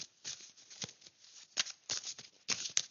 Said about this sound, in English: I'll just do a quick more shuffle.